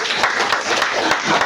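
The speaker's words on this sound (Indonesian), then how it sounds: "Tepuk tangan dong" A church congregation claps during a sermon, a short burst of close, fairly loud applause with a few distinct hand strikes standing out from the crowd.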